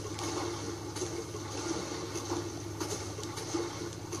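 Ocean waves in the video game GTA V wash in a steady, continuous rush of water, moderately quiet and unbroken for the whole stretch, with no voices over it.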